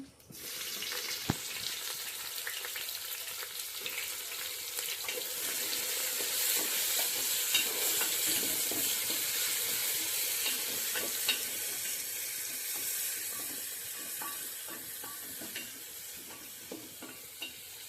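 Chopped onions fry in oil with dried red chilli, bay leaf, cardamom and cinnamon for a mutton curry. A steady sizzle rises and swells while a spoon scrapes and stirs the pan, with no voices.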